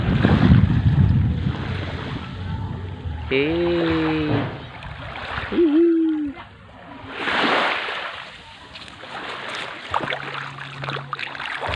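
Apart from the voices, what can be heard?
sea waves during boat trip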